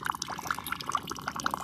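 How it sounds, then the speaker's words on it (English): Water falls from a small faucet into a mini-pond in a small aquaponic garden, a close, continuous trickle with rapid bright drips and bubbly plops spilling over one another. "the water's falling out of that little faucet there"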